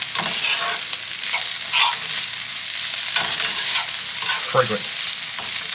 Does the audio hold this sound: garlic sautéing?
yes